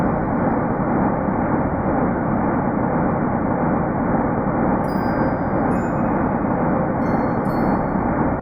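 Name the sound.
sonification of the early universe's sound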